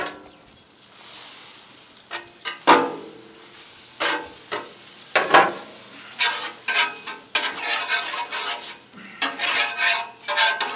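Butter sizzling on a Blackstone griddle while a sausage egg muffin cooks, a soft steady hiss broken by repeated scraping and clattering of a metal spatula on the flat-top, close and fairly loud.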